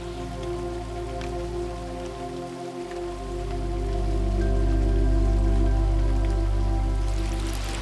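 Rain falling outdoors near a parked car, a steady wash of drops on surfaces over a low continuous hum that swells slightly toward the end, no speech.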